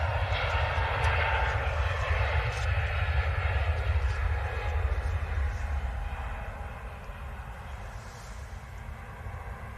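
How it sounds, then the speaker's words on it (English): An EasyJet airliner passes at Manchester Airport with a loud, broad jet-engine roar that slowly fades as it moves away, while a voice talks over it. "That is EasyJet to Antalya."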